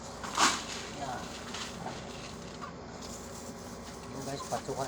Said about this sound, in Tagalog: Ito ang alaga akong manok dito.